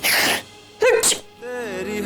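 A person gives a single loud, sharp sneeze indoors, with a breathy intake before the explosive burst, followed by a voice speaking briefly afterward.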